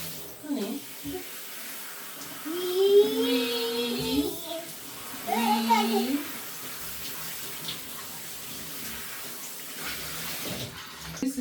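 A tap runs water steadily for a toddler's curly hair wash, a soft continuous hiss that rises and dips slightly, with voices speaking over it at times.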